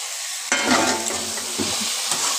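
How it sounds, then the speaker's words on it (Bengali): Potatoes tossed into hot chicken masala hit the pan with a sudden loud sizzle, followed by continuous frying crackle and several stirring scrapes. "এবার আমি আলুগুলো দিয়ে দিচ্ছি।"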